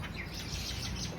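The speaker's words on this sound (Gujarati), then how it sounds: "પક્ષીઓ સેવો ખાવા આવી ગયા છે." Small birds feeding on sev give a faint, steady chatter of high chirps over a low background hum, distant and without talk.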